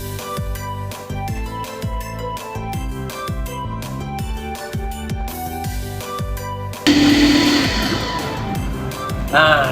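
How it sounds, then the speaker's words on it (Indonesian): Rhythmic background music plays at first, then a loud food processor whirs in, grinding meat steadily over the music. "Pertama-tama, daging protein ini akan kita giling dulu sampai halus."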